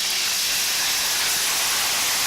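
Soy sauce hits hot oil and garlic in a pan, giving a loud, steady, hissing sizzle that holds evenly for a couple of seconds with no voices.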